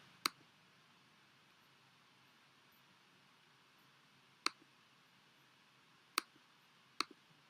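Sharp mouse clicks sound in a quiet room while software is operated: one click near the start, then three more spaced apart toward the end, each crisp and isolated against faint background hiss.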